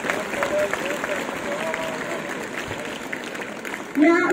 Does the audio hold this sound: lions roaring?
no